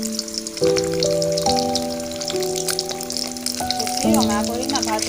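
Eggs frying in hot mustard oil give off a steady crackling sizzle throughout, heard beneath sustained musical tones.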